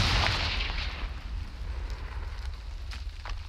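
A Confringo spell explosion in the video game Hogwarts Legacy: a loud burst with a crackling, fiery rumble that fades gradually into a low sustained roar, heard alone.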